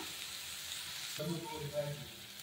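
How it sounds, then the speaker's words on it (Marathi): Chopped vegetables frying briefly in a small amount of oil for vegetable oats, a steady sizzle that swells when the food meets the pan, with a few soft clinks of stirring. "तर याला आहे ना थोडा वेळ फ्राय करून घेते। तेल थोडंसं टाकलेलं।"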